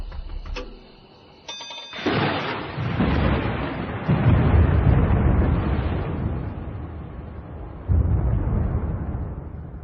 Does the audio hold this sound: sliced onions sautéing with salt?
no